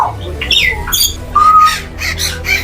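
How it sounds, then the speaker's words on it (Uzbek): Cockatoo at a bird market in Tashkent giving loud, harsh squawks in several bursts amid shrill bird calls and market noise. "Kakadu bo'ladi, gapiradigan qush."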